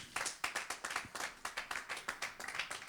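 A church congregation claps in a steady, rhythmic beat, about four sharp claps per second, close and fairly loud with no voices over it.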